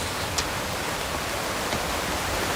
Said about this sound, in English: we kind of hear the water running on my right hand side